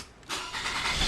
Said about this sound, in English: let's turn the car on first